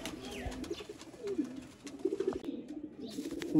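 Sialkoti breeder pigeons coo softly nearby, a few low, throaty rolling coos repeating over a quiet background.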